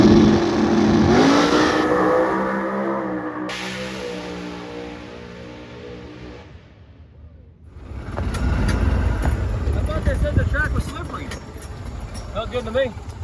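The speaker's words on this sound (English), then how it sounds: "let's go get this car hooked up and go down and make a pass" Drag race car launching down the track, a loud engine roar that rises and then fades into the distance, followed by a surge of broadband crowd or engine noise with people talking.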